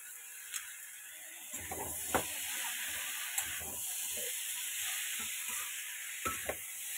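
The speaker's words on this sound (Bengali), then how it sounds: "জিরে, আদা আর টমেটো আর শুকনো লঙ্কা এই হচ্ছে দেওয়া আছে। এটাকে ভালো মতো কষাবো।" Cumin, ginger, tomato and dry chilli fry in a pan with a quiet, constant hiss, punctuated by scattered spoon scrapes and taps.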